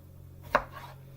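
A knife quartering strawberries on a cutting board, a single crisp chop against a quiet hum, close and isolated.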